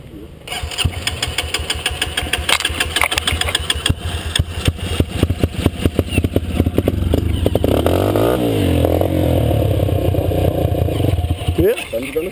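A dirt bike engine sputters and revs loudly up close on a muddy trail, its rapid putter rising and falling, then settling into a steady drone.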